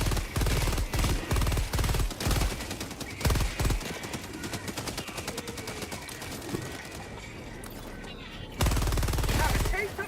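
A Stalwart machine gun in a video game fires in rapid, loud bursts separated by short gaps, with one long sustained stretch of fire and a final burst near the end.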